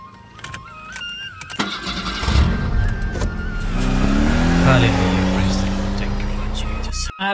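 A car engine starts up and settles into a steady running rumble nearby, with faint voices and handling noises before it catches.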